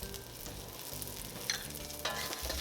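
Dry red chili peppers, ginger, garlic and scallions stir-fried in hot oil in a wok over medium-high heat, with continuous sizzling and frying crackle punctuated by scraping spatula strokes and a few louder stirring clatters.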